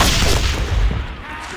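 Loud, dense gunfire and booming artillery from the Elite Wars war video game crowd together in a continuous barrage, heavy and close, for a short stretch.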